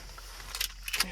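Keys jangle in short metallic bursts inside a VW California camper van, a few quiet clinks close by against a low, steady background hum.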